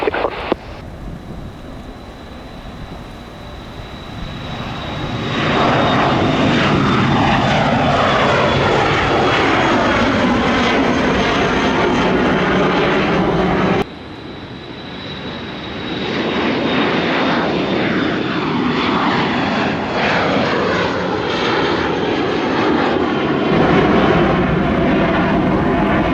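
Dassault Falcon jet engines spool up for takeoff on a runway, with a loud, steady roar and a rising whine that builds, dips briefly, then returns strong and sustained.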